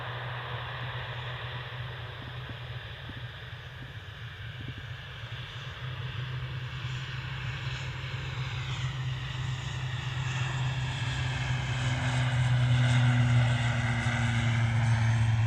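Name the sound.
airliner departing from Manchester Airport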